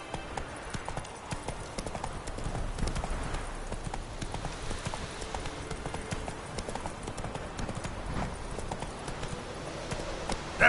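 Hooves of Roach, the horse in The Witcher 3, pound in a fast, continuous galloping rhythm, close and steady over a faint game ambience.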